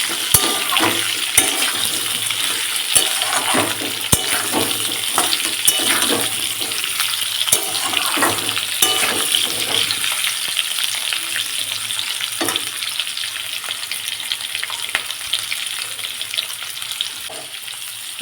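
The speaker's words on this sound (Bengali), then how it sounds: "আমি একসঙ্গে দুটোকে ভেজে নিচ্ছি" Cauliflower and potatoes fry together in a pan, with a steady loud sizzle and crackle of oil throughout, occasional stirring clicks, no talk.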